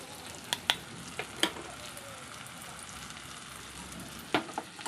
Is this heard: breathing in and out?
no